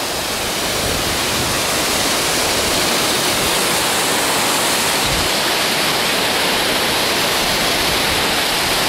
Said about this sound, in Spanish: En el pie de la cascada.